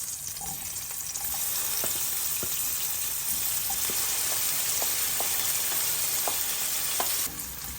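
Chopped garlic and onion sauté in hot oil in a pan, giving a steady, close, dense sizzle broken by occasional light clicks of a spatula against the pan.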